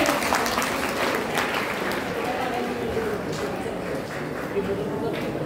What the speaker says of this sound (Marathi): त्यांच्यासाठी सर्वांनी टाळ्या वाजवायचे